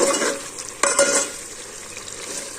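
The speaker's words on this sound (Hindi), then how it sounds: "मसाला तो बड़ा ज़बरदस्त भुन चुका है" Masala spices and meat fry in a pan with a steady soft sizzle, with a brief stir or scrape partway through, close and alone without talk.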